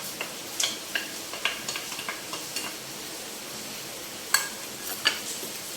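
Ivy gourd (dondakaya) pieces fry in a pan with a soft continuous sizzle, punctuated by a few sharp utensil taps and clicks against the metal as they are stirred.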